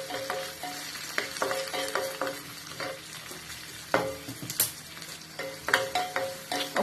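Two chopped onions and two bay leaves fry in oil for a fish curry, a steady close sizzle broken by repeated scraping stirs from a utensil against the pan.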